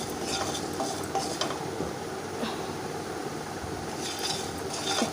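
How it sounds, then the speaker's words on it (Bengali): Potatoes are stirred while frying in a wok, with scraping and clinking of the spatula against the pan over a constant low sizzle that lasts throughout. "আরও দু মিনিট মতন আলুটা একটু নাড়াচাড়া করে ভেজে নিচ্ছি"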